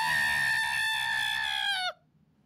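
A voice imitates a creature's high-pitched screech, a single sustained shrill cry lasting about two seconds before cutting off abruptly into silence.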